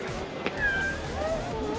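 A cat meows a couple of times outdoors in a botanical garden in Baguio, with rising and falling tonal cries over steady background noise and a brief sharp sound early on.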